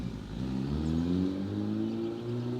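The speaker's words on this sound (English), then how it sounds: "And there's that loud car again." A loud car engine runs nearby, rising in a smooth rev with a climbing drone that then settles into a steady mid-pitched hum, with no voices over it.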